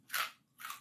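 Two crisp, close crunches as crispy food is bitten, each a short bright burst separated by a brief quiet gap, with no talking.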